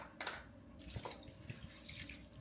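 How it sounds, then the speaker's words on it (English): Tap water running into a container being filled for a brine of garlic, thyme, rosemary, peppercorns and apple cider vinegar, a continuous splashing gush with small bubbly surges, fairly close and quiet, no talking. "I'm gonna fill this up to 3/4 of a way with water"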